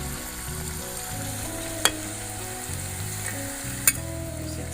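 Sweet mathri fry in oil over low heat with a continuous, even sizzle, and two brief sharp clicks mark the pieces being turned.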